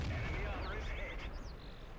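A World of Tanks tank cannon fires at a T-34, a single heavy boom that rumbles low and close, with brief whistling and mechanical sounds trailing after.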